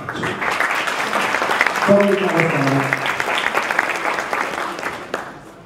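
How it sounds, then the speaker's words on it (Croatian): Audience at a charity fashion show applauding assistants and helpers, a broad steady wave of clapping that swells and carries on for several seconds before tapering off abruptly at the end. "I sad molim jedan aplauz za asistente i pomagače"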